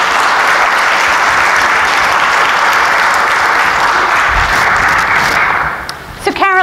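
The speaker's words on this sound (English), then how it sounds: "So let's give her a round of applause." Loud, dense applause from a church audience greets Caroline, many hands clapping steadily for several seconds before fading as a voice begins speaking at the close.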